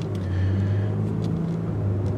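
A Lexus car pulls away from a stop, its engine giving a steady low rumble from inside the cabin with no talk over it.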